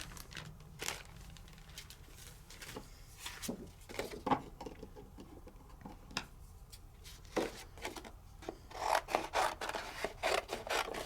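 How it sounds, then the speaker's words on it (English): Paper being cut for handmade card making, heard as a run of short rasping, scraping strokes with small taps and clicks, close and fairly quiet, with no talking. "Let's cut some paper."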